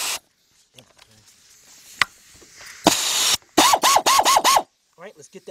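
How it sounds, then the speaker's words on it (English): An air ratchet spins a bolt out of the front right motor mount on a 2003 Honda Accord 3.0, giving a loud burst of rapid whirring followed by several short pulsing runs, with talk and shop noises around it. "then airline, and take that bolt right out of there"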